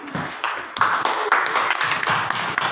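A small classroom group claps for fellow students in a lesson, brief uneven bursts of close hand claps in a short irregular rhythm.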